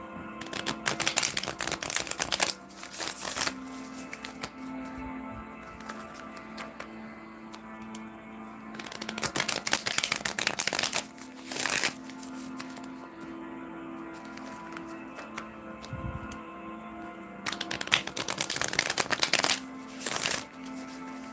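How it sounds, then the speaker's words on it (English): Tarot cards are butterfly-shuffled in several loud fluttering bursts, separated by quieter stretches of faint handling and background hum. "5 butterfly shuffles."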